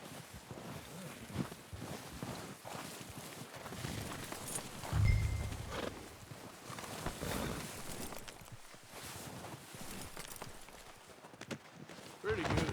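A horse walks in Red Dead Redemption 2, its hoof clops blending with rustling movement and a low thump midway, under game ambience and some talk.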